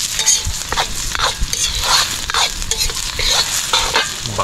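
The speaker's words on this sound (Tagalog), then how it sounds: "Kaya yung ating niluluto, pinapaikot." Oysters and onion stirred in a hot pan, with a steady sizzle of frying under repeated scraping strokes of the stirring spoon, close and continuous with no talk.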